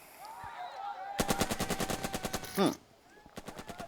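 Rapid bursts of machine-gun and rifle fire from the Burden of Command wartime tactics video game, a long rattling volley of evenly spaced shots, then a heavier blast, a pause and a shorter burst of fire.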